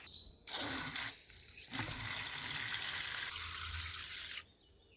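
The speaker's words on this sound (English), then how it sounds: "I'm just putting some water in here for you." Water being poured into a container for an animal at a garden allotment, a continuous close splashing gush that runs for several seconds before stopping abruptly.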